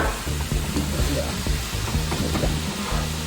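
Lentils sizzling and frying in oil in a pan over medium heat, a steady crackling hiss with intermittent stirring scrapes and pops, close and continuous.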